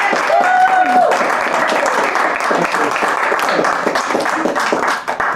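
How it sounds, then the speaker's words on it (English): Applause from a house concert audience, steady and fairly loud throughout, with a voice speaking over the clapping near the start. "Another round of applause to Randel McGee"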